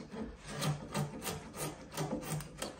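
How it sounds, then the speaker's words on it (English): A chisel pares and rubs through timber while a tenon is cut by the kerf method for timber framing, giving a close, rhythmic series of scraping strokes with no talking. "Now, starting off on the flat side with the flat part of my chisel,"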